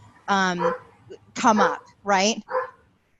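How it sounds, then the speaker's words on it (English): A dog across the street barks in several short, harmonic bursts with yelping, whimpery tones, fairly clear and close-sounding, interleaved with a person speaking. "Oh, that's the dog across the street."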